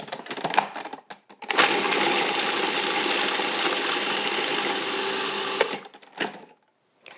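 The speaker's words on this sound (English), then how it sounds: "we'll go ahead and process those ingredients until they're crumbly" Food processor blitzing raw tart crust ingredients until crumbly: a loud, steady whirring grind that runs for about four seconds, framed by brief handling clatter before and after.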